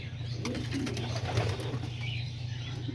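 Homing pigeons coo softly in a loft against a steady low background hum, with faint rustling and a few light chirps.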